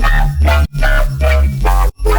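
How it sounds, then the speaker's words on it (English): Heavy, distorted riddim bass with a deep sub layer pulsing in a choppy rhythm, with brief gaps between loud, crushed hits. "the bass and the sub sound like this."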